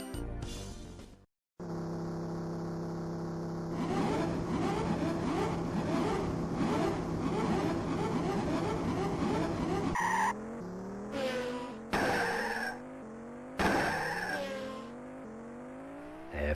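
Arcade racing car engine from the Amiga game F-17 Challenge on the Kyalami circuit in South Africa: a loud synthesized drone that climbs in pitch through repeated gear-shift sweeps, with bursts of tire-skid squeal near the end and no talking.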